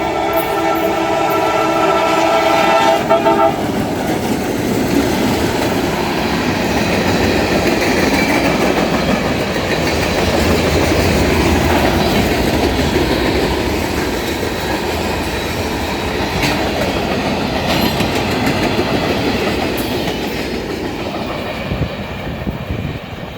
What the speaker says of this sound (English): Local train coming through